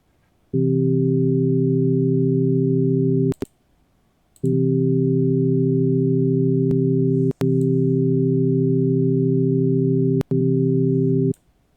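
Steady pure sine tones of a harmonic series sounding together in long sustained blocks, separated by brief gaps, with sharp clicks where each block cuts off.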